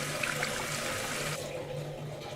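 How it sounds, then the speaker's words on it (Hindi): Water running steadily on its own somewhere in a house, a continuous broadband rush like a tap or pipe left flowing, with no voices. "यहाँ से भी पानी बह रहा है"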